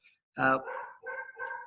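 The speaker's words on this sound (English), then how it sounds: "excuse my dog for a second" A dog barks several times close by in an indoor room, with short harmonic yelps and barks in quick succession, loud relative to the quiet surroundings.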